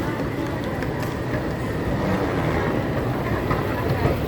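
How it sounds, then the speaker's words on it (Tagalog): An MRT train at Changi Airport rumbles steadily past, a continuous low rolling rail noise under faint background voices and station ambience. "May MRT na."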